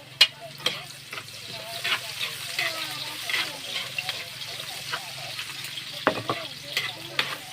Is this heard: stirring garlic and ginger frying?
yes